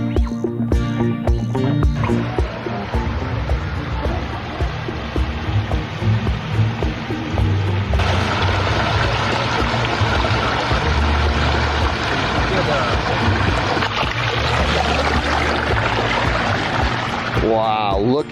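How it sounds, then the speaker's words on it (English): Backyard koi pond waterfalls with wetland filtration pour in a continuous splashing rush of water that runs loud and close, while someone talks over it. "You see the waterfalls."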